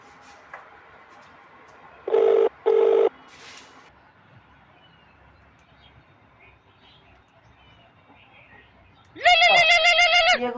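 Two short, bright electronic telephone rings in quick succession sound over a quiet room, followed later by a louder, wavering tone.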